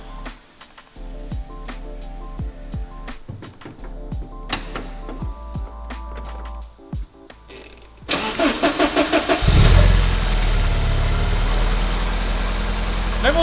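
A Porsche 944 engine cranks and fires after a belt repair, preceded by clicks and clunks of work on the car, then a rising burst of starter churn settling into a steady, loud, close idle.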